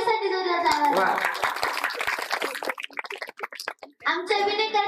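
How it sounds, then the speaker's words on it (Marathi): Hands clap in a brief burst at a children's kirtan with a bhajan group, the claps following speech into the microphone before voices resume. "आमच्या सर्व भजनी मंडळ व एवढ्या चिमुकल्या मुली उभ्या यांच्यासाठी जोरदार टाळ्या वाजवा."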